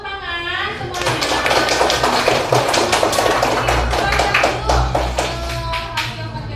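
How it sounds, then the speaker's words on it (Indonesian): A classroom of students claps together, a dense burst of hand claps continuing steadily for several seconds with children's voices mixed in beneath. "boleh tepuk tangan semuanya"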